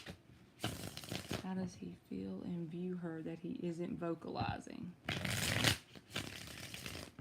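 Tarot cards shuffled in quick riffling bursts, crisp and close, at the start and again near the end, with a person talking in between.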